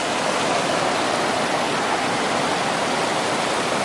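A waterfall on a creek along the Pacific Crest Trail roars in a steady, dense wash of white noise, loud and close, with no voices.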